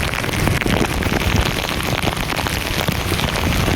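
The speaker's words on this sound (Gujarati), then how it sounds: "પાણી મેં હમણાં તો એવો વરસાદ છે અહીંયા." A downpour drums hard on nearby surfaces, a loud, dense patter of countless drops that stays constant and close for the whole stretch, with no voices.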